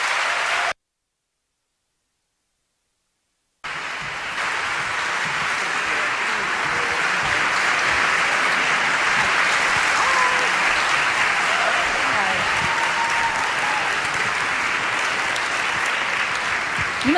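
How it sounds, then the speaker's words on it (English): A large audience applauds as Megyn Kelly and Katty Kay are welcomed on stage, with loud, sustained clapping and crowd noise that runs for over ten seconds after a short silent gap at the start. "Can we just carry on like that all night and have an hour of applause?"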